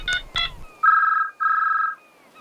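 A cartoon telephone rings in two bursts of bright electronic trilling, near and clear, after a brief spoken exclamation.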